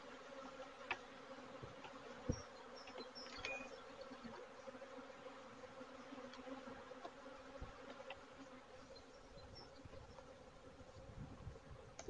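Honeybees buzz steadily around an opened hive during an inspection, a faint continuous drone with occasional closer passes and a few light knocks, no talk.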